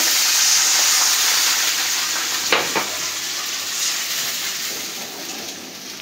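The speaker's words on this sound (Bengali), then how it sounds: "পেঁয়াজ ভাজা হয়ে গেছে, এখন একটু পানি দিয়ে দিই মশলাটা দেওয়ার জন্য" Water poured onto fried onions in a hot pan while cooking a special-occasion chicken dish, a loud hissing sizzle that bursts up with a couple of sharp clatters midway, then slowly settles.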